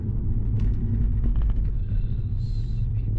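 Mini Cooper S fitted with an aFe Power intake, driven in sport mode through city traffic, producing a steady low engine rumble with road noise, continuous and close throughout.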